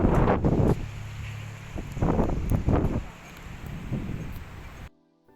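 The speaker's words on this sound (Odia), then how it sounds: "ପବନ ବର୍ଷା ଲାଗୁଛି।" Wind and heavy rain outside an apartment launch office in West Lafayette, USA, heard as a steady loud rushing roar with gusting swells, cutting off abruptly near the end.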